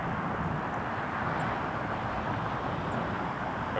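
A Dash 8 Q400 turboprop at Toronto Pearson Airport, a steady broad engine roar holding at even loudness throughout, moderately distant and heard alone without voices.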